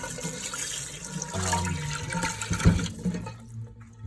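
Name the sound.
wood fiber cleaning pad being rinsed under water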